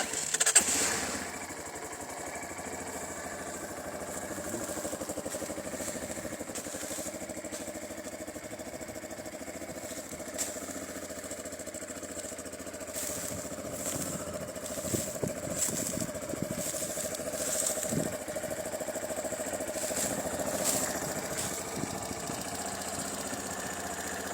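A Viper V250L motorcycle engine cranks and catches, then settles into a steady mid-pitched idle with a faint knocking pulse, heard up close and alone for over twenty seconds.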